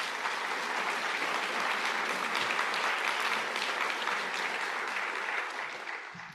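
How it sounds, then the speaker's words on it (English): Sustained applause from an audience honoring fallen soldiers, a dense, steady roar of many hands clapping that tapers off in the final second. "I think this applause is deserved to the soldiers that we lost"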